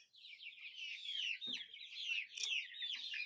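Several silkie hens and roosters cluck and murmur continuously at close range, overlapping soft calls with a few sharper notes, no voices.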